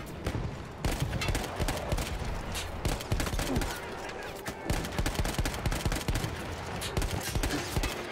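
Heavy enemy gunfire and rapid machine-gun bursts from a Battlefield 1 campaign battle crack continuously at close range, loud and dense throughout, with a brief exclamation from a player over the shooting.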